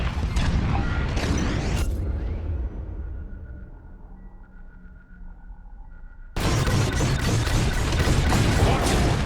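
Bombs dropping and exploding during a raid on a receiver in Star Wars Squadrons, heard as a loud rumbling blast that fades into a low hum before a second dense, roaring burst of explosions.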